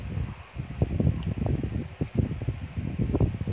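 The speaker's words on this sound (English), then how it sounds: "I hope you guys can hear okay because I've got the fan on" An electric fan hums steadily close to the microphone indoors, a breathy, fluttering rush that swells and dips unevenly, heard alone without talk.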